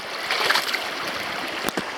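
River water flowing over slick rocks at a crossing on a morning hike, a steady broadband rush with light splashing, close and moderately loud, alone with no voices.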